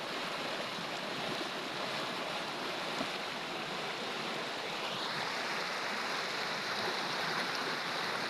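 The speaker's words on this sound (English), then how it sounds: "the best sounds of a flowing river is here with me" A river in Kenya flows in a steady, full-bodied rush of water, loud and continuous throughout, with no voices.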